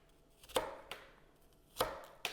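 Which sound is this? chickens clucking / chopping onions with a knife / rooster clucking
chopping onions with a knife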